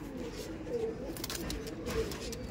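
Pigeons coo softly in low, rolling murmurs against a steady background hum, a few overlapping calls close by over about two seconds.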